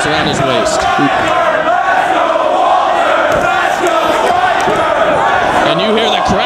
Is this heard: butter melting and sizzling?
no